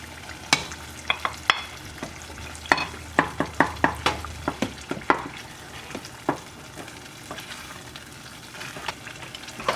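Two eggs sizzle in a hot pan for a spicy Ghanaian dish while a utensil stirs them, giving many sharp clicks and scrapes in an uneven rhythm over a continuous close frying crackle.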